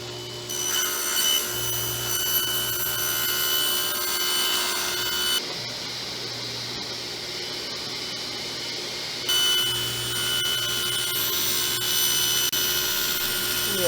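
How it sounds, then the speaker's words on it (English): A table saw plunges into wood while cutting a keel winch cover for a Catalina 22 sailboat, giving a loud, steady motor whine with a grinding cut that eases to a quieter stretch midway before the full load returns. "Now I'll lower the blade, start the saw, and we will make the first cut."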